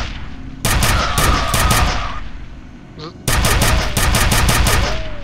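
Loud, close bursts of rapid gunfire from a weapon in F.E.A.R., two sustained volleys of evenly spaced shots separated by a brief lull, over a steady game background.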